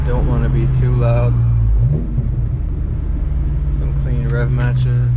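Manual VW Mk8 GTI, Stage 2 tuned on E85, idling with a steady low engine drone and a brief rev blip, heard under someone talking nearby.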